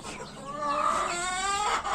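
Sultan chickens cluck and squawk nearby in a short burst of rising, nasal calls, with no talking.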